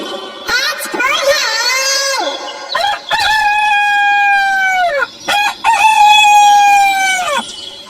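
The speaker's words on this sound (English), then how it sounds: "H for hen." Cartoonish hen clucking and crowing calls with strong harmonics, loud and close, repeated in three drawn-out bursts over a children's phonics song.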